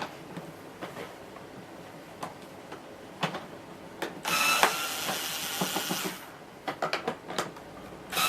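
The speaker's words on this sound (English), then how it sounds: "on the back of the hood there is one screw here and one screw here, and we just need to take those two screws out" A power driver running in reverse backs screws out of the plastic hood of a Hoover Purepower U3330 upright bagged vacuum: a close whirring burst of about two seconds among light clicks and handling ticks.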